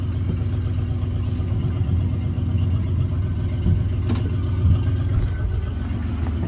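A Ford OBS truck engine running on its first drive after a blown maxi fuse fault was fixed, a low steady rumble with slight revving swells and a few faint clatters, heard up close with no talk.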